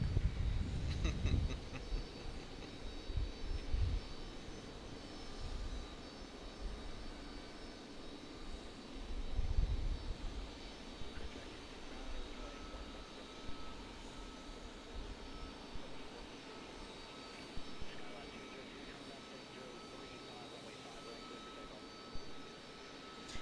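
A fixed-wing airliner at Raleigh-Durham airport, bound for New York, rumbles as a distant engine roar with low thumps of wind or handling early on, and a steady broadband hum holds under faint background noise throughout.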